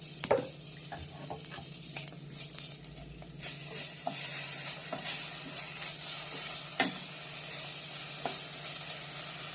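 Homemade ginger garlic paste frying in a pan for okra curry: a continuous close sizzle with occasional scraping clicks of a stirring spoon, no voices.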